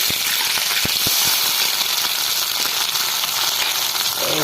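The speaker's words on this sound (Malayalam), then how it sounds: "ചീരയുടെ തണ്ട് കട്ട് ചെയ്ത് വെച്ചിരുന്ന ചെറിയ ഉള്ളി ചീരയുടെ തണ്ട് ഇട്ട് വഴറ്റുന്നേ" Shallots and chopped amaranth stems sauté in hot oil with browned fenugreek seeds, giving a loud, continuous close sizzle with scattered crackles and no voices.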